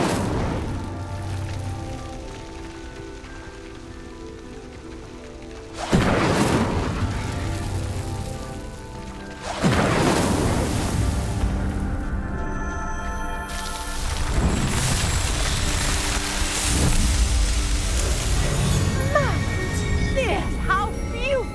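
Magic fire bursts from an Incendio spell in Hogwarts Legacy: three loud whooshing blasts with a sudden onset, each roaring and crackling for several seconds, over a steady rumbling game ambience.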